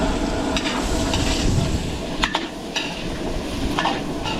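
Onions and hotdog frying in a pan for catering at a private resort, a steady loud sizzle with a few scraping stirs of a utensil against the pan, no talking.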